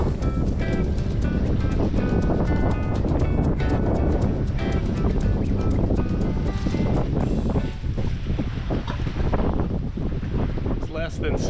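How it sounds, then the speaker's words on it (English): Sailboat under jib alone on open water crossing toward St Kitts, steady loud wind buffeting the microphone and constant rushing water and hull noise throughout, with no clear voices. "We're doing some jib sailing."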